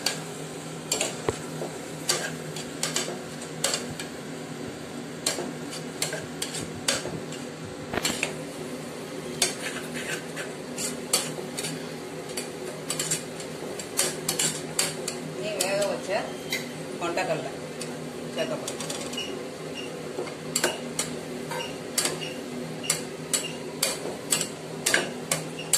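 Biryani masala with curd sautéing in a pot, marked by rapid metallic clinks and taps of a ladle against the vessel over a low steady cooking hiss, close and busy throughout.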